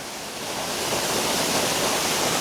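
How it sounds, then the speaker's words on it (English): Hull Creek Falls in Pennsylvania roars steadily from very close range, a dense, loud wash of falling water without pause and no voices over it. "this is as close as you're gonna get to this waterfall without being inside it"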